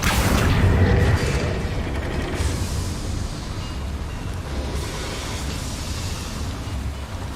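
A Confringo blasting spell from Hogwarts Legacy lets out a deep, booming roar. It is loudest at first, then settles into a steady rumbling blast that carries on for several seconds.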